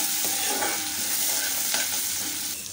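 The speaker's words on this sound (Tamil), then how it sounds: "1 நிமிஷத்துக்கு மிக்ஸ் பண்ணிக்கலாம்." Steady sizzling in a hot pan as a tempering with ginger and curry leaves is stirred, with a continuous frying hiss and light scraping strokes close up, no voices.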